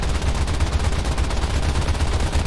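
An A6M3 Zero's cannons fire in War Thunder: a steady, rapid stream of shots rattles over the deep drone of the aircraft engine throughout.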